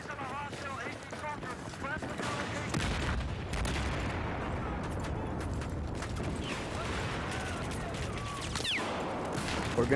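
Gunfire in an online video game: scattered bursts of shots and booms over a continuous rumble, with a couple of sharp cracks, moderately quiet, while people talk over it.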